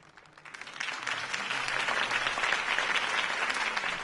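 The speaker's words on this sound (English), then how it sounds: "If only Mr. Wayne, my campaign's largest backer, could have heard that applause" A crowd at a political campaign rally in the Batman Telltale video game bursts into steady, dense applause that swells quickly and holds at an even level, with many hands clapping at a moderate distance.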